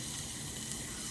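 Butter and seasonings sizzle in a frying pan with a constant, dense crackling hiss, close and moderately loud, with no voices.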